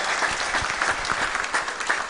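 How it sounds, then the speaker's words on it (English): A crowd at a Friday Jumuah gathering at a mosque community center claps steadily, dense, sustained applause filling the room without pause, loud and close, with no voices rising above it. "So a huge round of applause to everyone who's here before we start."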